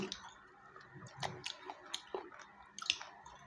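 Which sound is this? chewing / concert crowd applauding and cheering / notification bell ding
chewing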